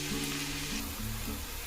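Sliced onions for masala egg bhurji fry in a pan with oil, giving a steady, soft sizzle and crackle that holds evenly throughout without any talk.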